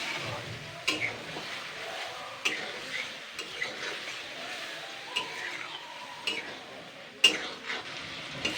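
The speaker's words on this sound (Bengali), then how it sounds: "সমস্ত মশলা যা যা আছে সবগুলো নিয়ে আমি এবারে কষাবো" Spice paste with pointed gourd being sautéed in a pan gives a low steady frying hiss, with soft stirring scrapes and taps at irregular intervals, close and fairly quiet.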